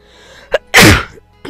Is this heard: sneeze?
yes